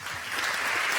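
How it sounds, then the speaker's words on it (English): Audience applause at a panel session of a television industry forum, steady broadband clapping from a crowd filling the room for about a second. "I guess they deserve a big round of applause here."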